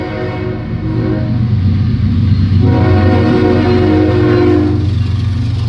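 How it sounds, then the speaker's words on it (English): A loud train rumbles close by in a steady roar, its horn sounding over the heavy rolling noise of the cars. "People, the train's coming."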